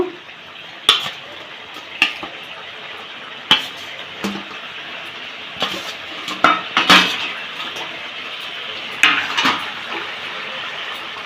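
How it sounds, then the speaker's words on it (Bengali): A lid comes off a pan and fish goes in for a Bengali fish curry, with sharp metallic clinks and clatters of cookware spaced out over a low background hiss. "ঢাকাটা খুলে নিলাম এবার আমি মাছটা দিয়ে দেব"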